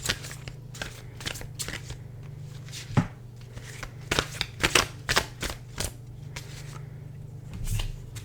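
Tarot cards being shuffled and snapped down, a close series of crisp irregular flicks and slaps over a low steady hum.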